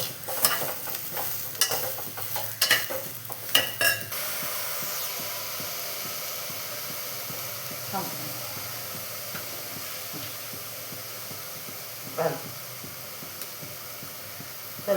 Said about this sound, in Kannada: ಹಾಗಲಕಾಯಿ ಹಾಕಿದ್ದೀನಿ, ಸ್ವಲ್ಪ ಎಣ್ಣೆ ಹಾಕಿ ಚೆನ್ನಾಗಿ ಹುರಿತೀನಿ